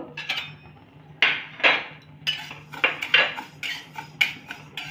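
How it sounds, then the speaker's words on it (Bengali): Moong dal being dry-roasted in a heated wok, heard as a series of sharp metallic scrapes and clinks from a spatula, close and irregular with brief pauses between strokes. "এবার আমি একটু ডালটাকে ভেজে নেব"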